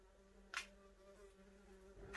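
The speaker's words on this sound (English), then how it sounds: "Wasps driving me crazy." Faint wasps buzzing inside an abandoned station house, a quiet steady drone under room hum with a couple of brief, sharper passes close to the microphone.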